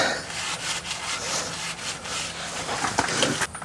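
A rag rubs grease off a grease zerk on the MORyde CRE3000 suspension of a Grand Design RV, giving a close, continuous dry wiping and scrubbing sound over a few seconds.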